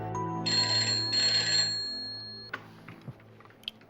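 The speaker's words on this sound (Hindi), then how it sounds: "रोहन, तुम इतनी रात को कैसे फोन कर रहे हो?" A telephone rings with a bright electronic tone in two sustained bursts, fairly loud and close, followed by a few soft clicks and knocks as the ringing stops.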